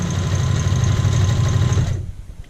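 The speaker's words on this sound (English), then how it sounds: "Go ahead and try to sew this with about 3/8 of an inch seam allowance." Sewing machine stitching a child's shirt collar, a loud close steady motor whir with a rapid needle rhythm that stops near the end, leaving quieter room sound.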